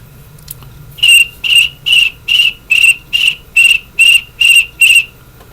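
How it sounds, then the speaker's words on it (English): Ten evenly spaced, shrill cricket chirps pulse about twice per second, loud and close, over a quiet low background hum with no talking. "You've heard the crickets,"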